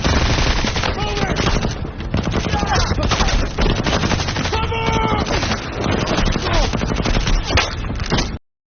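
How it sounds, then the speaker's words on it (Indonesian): Dense film-scene gunfire as soldiers run for cover: continuous rapid machine-gun bursts and rifle shots overlapping loudly throughout, with shouting voices mixed into the barrage before it cuts off abruptly. "Tidak ada yang berhenti menembak saat mereka berlari, mencari perlindungan di titik manapun yang bisa mereka temukan"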